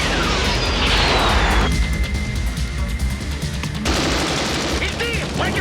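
Loud, rapid bursts of MiG fighter jet cannon fire over a roaring jet engine, with a high whine, short pauses between volleys, and a French-speaking voice underneath, from a Top Gun film.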